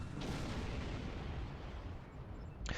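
A ship explodes in Star Trek Online, a loud, dense, rumbling blast that fills the clip and ends with a sharp burst, with no voices.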